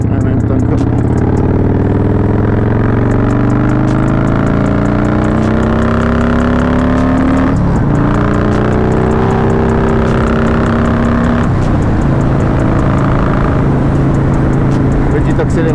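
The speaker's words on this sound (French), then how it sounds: "Accélération au passage." A motorcycle engine revs up loudly nearby as it accelerates, the pitch climbing repeatedly through gear changes with rough popping exhaust, heard close and continuous.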